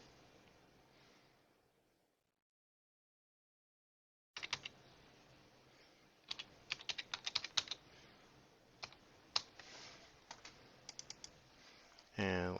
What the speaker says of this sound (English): We're going to type one in